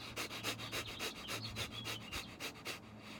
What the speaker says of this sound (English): I would just basically do a rapid breathing technique.